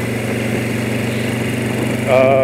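A bike engine drones steadily while riding, a loud, even buzzing hum with a rising rev near the end, heard through constant wind and road rumble.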